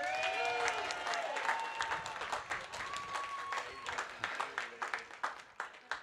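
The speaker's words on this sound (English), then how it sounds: "How about a big round of applause for our name readers?" Graduation crowd at a college commencement ceremony applauds the name readers, sustained clapping over a murmur of voices and a few cheers, easing off toward the end.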